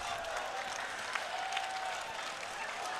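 Audience at a Hindi comedy poetry recital (hasya kavi sammelan) applauding: a steady, soft wash of many hands clapping at once, heard from a distance with no voices standing out.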